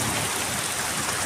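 Heavy monsoon downpour in Islamabad and Rawalpindi, a dense, continuous broadband hiss of rain pouring onto surfaces, loud and unbroken throughout the short stretch.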